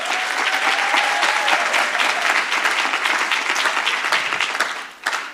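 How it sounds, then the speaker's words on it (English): Audience applause at a university Heritage Day event, a brisk, full burst of many people clapping for about five seconds, dropping away at the end with a last scattered clap. "Can we give them another round of applause?"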